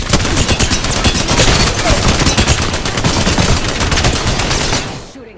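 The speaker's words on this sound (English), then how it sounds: "Shooting at me." Sustained rapid gunfire in the battle royale game Apex Legends during a final round, dense automatic bursts filling nearly five seconds at close, loud range before cutting off abruptly.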